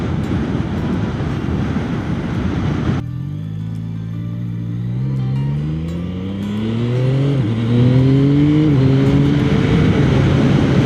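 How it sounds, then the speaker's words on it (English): A 2025 Yamaha XSR900 GP motorcycle engine rumbles, then revs up through several gears, its pitch climbing in rising steps and growing louder. "I'm only really revving it just to the kind of 6-7 mark"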